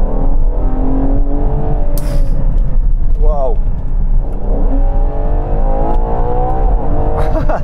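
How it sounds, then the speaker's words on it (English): A Ferrari Purosangue's V12 revs hard under acceleration, a loud continuous roar that climbs in pitch, with a brief exclamation from the driver over it. "what the Bentley doesn't have is that engine noise."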